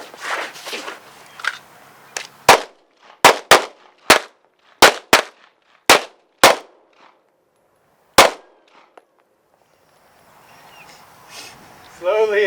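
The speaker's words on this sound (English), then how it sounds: "We're going to fire 2 rounds." Sharp, loud pistol shots crack at an outdoor shooting range, about a dozen in an irregular sequence with short gaps, after some scuffling handling noise and followed by quieter rustling.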